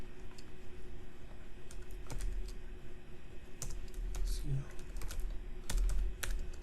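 Keys tap on a computer keyboard in quick bursts as an account ID and server name are entered, with a steady low hum underneath and occasional louder clicks.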